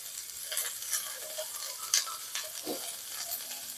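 Capsicum stirred in a hot pan while making an evening snack, with a soft steady sizzle and occasional light scrapes and clicks of the spoon, close and quiet, without talking.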